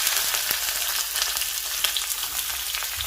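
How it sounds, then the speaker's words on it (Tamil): Thinly sliced garlic fries in oil over a low flame, making a busy, close sizzle full of tiny rapid pops and crackles, with a faint stir near the end and no speech. "பூண்டு இந்த மாதிரி பொரியணும்"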